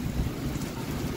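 Strong wind roars and buffets against the microphone in a steady, rough rush.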